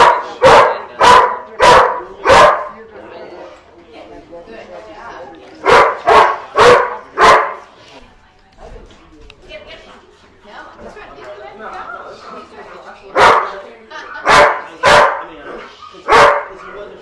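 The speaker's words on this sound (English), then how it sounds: "did you hear his bark thing?" A Rottweiler barks close and loud in three bursts of four or five sharp barks each, with a lull of whimpering and chatter in between as people talk over it.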